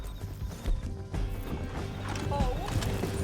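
Horse hooves clip-clop in a steady galloping rhythm in the Red Dead Redemption 2 western game, up close amid game ambience, with a brief whinny and faint voices.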